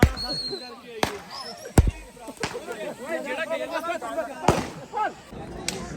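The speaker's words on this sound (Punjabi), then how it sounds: "ਸਾਰੇ ਡਿੱਗੇ ਹੋਏ ਪਟਾਕੇ ਜਾ ਕੇ ਚਲਾ ਰਹੇ ਨੇ" Firecrackers left over from Diwali celebrations in Italy go off in sharp, loud separate bangs, about half a dozen scattered across several seconds, with people talking and shouting in the background between the blasts.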